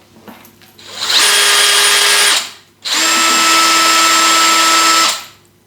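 A power drill spins a flexible drain-cleaning shaft in two steady, loud bursts of about one and two seconds, each with a sharp start and stop and a brief pause between them, with no talk.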